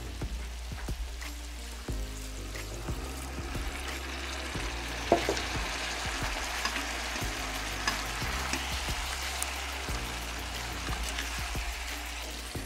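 Turkey breast with sweet potato and vegetables sizzles steadily in a pan after a splash of white wine, a continuous frying hiss with a few soft clinks and no voices.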